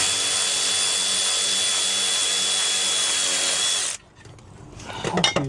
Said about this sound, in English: Always forget I've got this bloody electric ratchet.